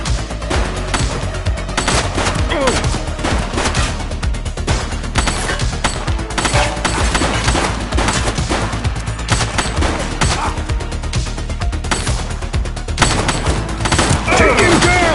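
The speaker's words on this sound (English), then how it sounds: "He's shooting!" Dense, continuous gunfire roars through a shootout, rapid overlapping shots and bursts filling the whole stretch at high volume, with shouted voices mixed in.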